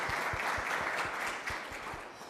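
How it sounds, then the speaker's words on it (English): Applause from a crowd at a Safe Streets community gathering tied to National Night Out, a steady wash of clapping throughout with faint low thumps beneath, slowly easing toward the end. "please give yourselves a round of applause for all of your work with this."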